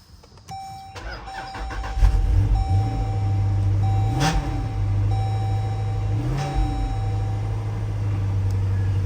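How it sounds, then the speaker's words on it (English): A car engine, jump-started from a Cen-Tech portable jump pack on a low battery, cranks briefly, then catches and settles into a steady, close idle with a faint electronic tone over it. "All right, the car is started, the car is running."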